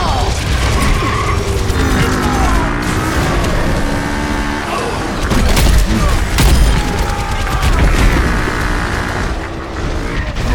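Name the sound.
grenade explosion and gunfire in a video game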